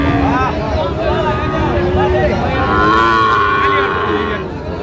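A six-month-old Sahiwal bull calf moos at a cattle market, giving several drawn-out, loud calls close by, layered over steady crowd chatter and background noise.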